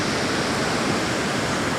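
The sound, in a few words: sea water washing over a rock on the shore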